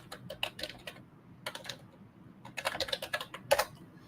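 Keys on a computer keyboard tapped in quick bursts, close and crisp, with short pauses between clusters of keystrokes and no talking.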